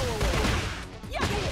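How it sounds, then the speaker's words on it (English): Nina firing her pistols in the fighting game Tekken 8, a dense burst of sharp gunfire and impacts layered over constant game noise and a swooping effect, loud and close throughout. "She's using her guns!"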